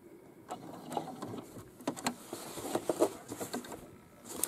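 A sewing machine stitching a fabric pocket onto a bag, giving short, intermittent bursts of rapid mechanical stitching at close range with quiet pauses between them.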